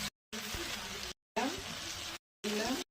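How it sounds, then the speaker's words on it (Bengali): Catla fish pieces and fish head going into a pan of cooking lentil dal, bringing a loud sizzling and bubbling hiss in three separate bursts with brief gaps between them. "এবার মাছ আর মাছের মাথা দিয়ে দিলাম"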